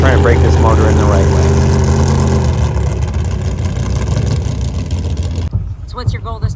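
A 1000-horsepower jetboat engine, newly built and being broken in on a track under a 4,000 RPM limit, roars loudly and steadily with rising tone, then cuts off sharply near the end as a voice speaks.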